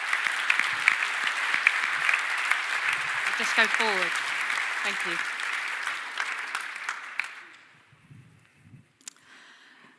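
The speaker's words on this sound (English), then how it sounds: "ladies and gentlemen, once again, please, great applause for these people" A conference audience applauds strongly, sustained clapping that tapers off into quiet, with a speaker's brief words heard over the applause.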